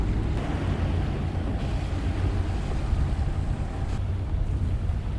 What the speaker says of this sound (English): we are prepared for an overnight motoring to St. Augustine.